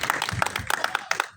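An audience claps at a film press conference for Kupeluk Kamu Selamanya, a brief burst of fairly close, uneven hand claps from a small crowd.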